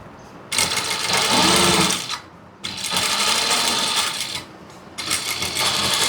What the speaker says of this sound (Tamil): இப்போ தைக்க போகிறேன்.